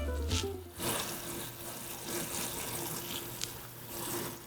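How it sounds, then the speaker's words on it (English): Sugar syrup for a French macaron almond paste bubbling rapidly as it cooks on the stove, a dense, steady, close wash of loud watery bubbling with no voices. "So when the bubbles have a lot of water content, they are moving fast, they are really loud."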